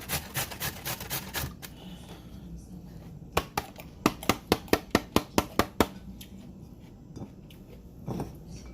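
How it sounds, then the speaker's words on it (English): A carrot is rubbed against a grater in quick, rhythmic rasping strokes, with bursts of several sharp scrapes separated by short pauses. "So here I've been grating some carrot."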